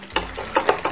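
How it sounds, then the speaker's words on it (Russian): Custard base of egg yolk and hot milk stirred in a pan for choux pastries, giving a few soft scraping strokes in quick succession, close and fairly quiet. "И хорошо все перемешиваем, чтобы у нас желток не успел завариться."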